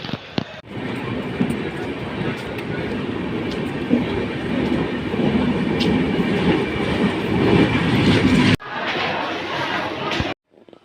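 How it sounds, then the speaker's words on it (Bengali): The Steel Express train rumbles loudly and steadily, with rattling carriages and clatter as it rolls in along the platform, then cuts off abruptly. "আমাদের এখন প্ল্যাটফর্ম একটা এক্সপ্রেস আসবে সেটা হচ্ছে স্টিল এক্সপ্রেস"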